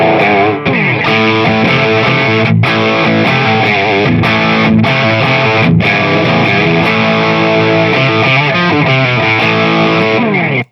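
An electric guitar played through a Boss OS-2 overdrive/distortion pedal rings out with loud, saturated, sustained chords and riffs, punctuated by a few brief cutoffs between phrases.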